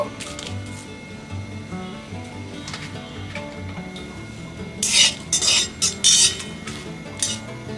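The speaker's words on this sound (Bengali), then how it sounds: "শুকনো লঙ্কাটা একটু ভেজে নেব" Four dried red chillies are dry-roasted in an empty kadai, with quiet scraping and tapping as they are stirred, then several louder bursts of clattering from the utensil against the pan, close up and without speech.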